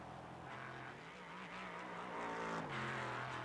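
In a racing video game, an LMP3 race car engine at Sebring drones steadily with throttle lifted and reapplied, the pitch dipping and rising in on-off surges at moderate, slightly distant loudness.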